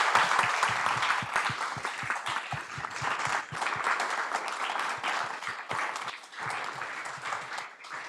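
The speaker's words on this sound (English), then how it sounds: "Let's give a huge round of applause for our speakers." A lecture audience at an architecture and urbanism talk claps for the speakers. The applause is dense and sustained, steady throughout with no voices over it.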